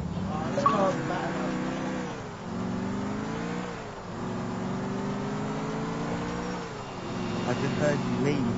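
A car in GTA The Ballad of Gay Tony drives with a steady engine drone that rises and falls as it revs and shifts, heard continuously with people talking over it.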